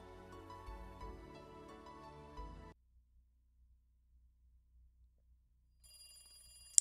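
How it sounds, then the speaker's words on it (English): Telephone ringing in the Higurashi visual novel game, a steady electronic ring for the first few seconds under music, then near silence before a brief high tone returns at the end. "he heard the phone ring"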